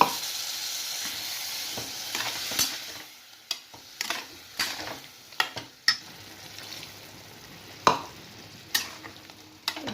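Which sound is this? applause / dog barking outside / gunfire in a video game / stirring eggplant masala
stirring eggplant masala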